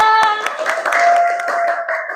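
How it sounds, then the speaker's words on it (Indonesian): Applause from a classroom of students for a group about to present, a burst of quick hand claps lasting about two seconds with a tonal sound at the start. "Beri tepuk tangan dulu buat kelompok"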